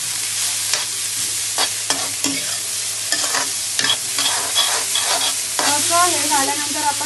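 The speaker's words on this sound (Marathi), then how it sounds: "तर आपल्याला परत त्याला स्टर फ्राय करायचं थोडं" Onion and cabbage stir-fried in a pan make a steady close sizzle, broken by repeated scraping and clattering strokes of the spatula as the vegetables are tossed, with no talking.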